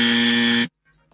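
Buzzer sound effect: a single loud, harsh electronic buzz held for about two-thirds of a second, then cut off abruptly into near silence.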